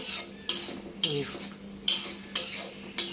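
Pangas fish sautés with chili powder and spices in a pan, giving a soft sizzle under repeated sharp scrapes and clinks of a utensil stirring against the metal, close and with no talk.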